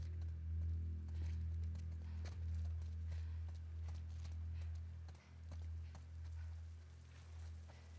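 Horse hooves clip-clop at a steady walking pace in The Last of Us Part II, faint and even, with a soft rain-like hiss in the background.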